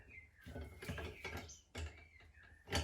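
Tool clicks and ratchets in bursts while tightening a fitting on a KTM EXC wheel bearing. The sounds are close by and are mixed with knocks of metal against metal.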